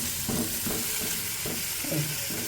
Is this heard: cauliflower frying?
yes